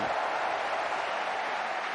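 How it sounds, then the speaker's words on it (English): A snooker crowd at the Hong Kong Masters applauds after Marco Fu's 147 maximum break, a steady, dense wash of clapping and cheering that fills the arena without letup. "this crowd is going wild"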